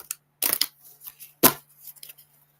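Tarot cards are shuffled up close in two quick riffling bursts, followed by a sharper snap and lighter handling, with no talking.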